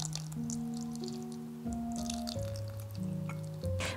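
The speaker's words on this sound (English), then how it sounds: "Add 1 cup of room temperature hojicha tea." Room temperature hojicha tea poured into a cooking pot, a continuous close liquid stream with shifting tone, over soft background music and no talking.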